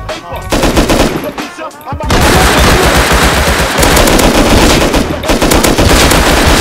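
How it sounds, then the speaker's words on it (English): Rapid automatic gunfire from the survival video game Rust during a base raid defense, loud and continuous with overlapping bursts and only brief pauses, after a quieter opening moment. "Shoot them both, shoot them both, both dead!"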